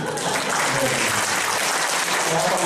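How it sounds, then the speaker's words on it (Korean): An audience at a staff education lecture for a provincial education office breaks into steady, dense applause that fills the whole moment at moderate volume. "박수 한번 드리죠"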